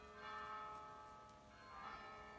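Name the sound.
bells ringing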